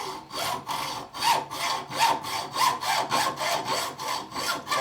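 A hand hacksaw cuts metal while a large scope is mounted on a Model 96 small-ring Mauser rifle. About a dozen steady back-and-forth rasping strokes come close up and alone, with no talk.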